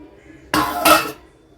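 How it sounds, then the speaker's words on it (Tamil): A single metallic clatter and scrape as a lid is set down onto a pot of rasam, brief and close. "நம்ம மூடி வைப்போம் அப்படியே மூடி வைப்புங்க"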